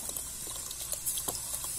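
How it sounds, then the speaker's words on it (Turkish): A soft, steady bubbling of tea water at a boil in a kettle at a seaside camp, with scattered small pops and hisses in the higher range, continuing throughout at a low level. "Çay fıkır fıkır kaynıyor."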